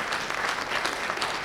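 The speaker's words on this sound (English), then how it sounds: "I'm going to give you a round of applause for all you do," Audience applause for Bob Luby, a department commander, at a veterans' housing symposium: steady, dense clapping from a crowd, moderately loud and even throughout, with no voices over it.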